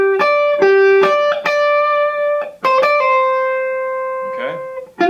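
Electric guitar plays a blues lick, clean picked notes in a pick, pick, pull-off pattern, each note ringing clearly with short gaps and a sustained final note, close and moderately loud.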